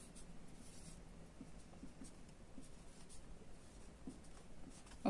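Marker or chalk writing on a board while working a square-root-of-fractions problem in a class 7 math lesson, heard as a faint, steady scratchy rubbing that runs continuously over quiet room noise.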